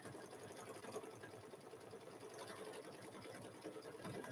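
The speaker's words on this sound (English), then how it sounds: "So this is actually embroidery machine." An embroidery machine quilting a chicken-pattern quilt in the hoop, stitching with a fast, steady mechanical chatter, close and continuous, with no voices.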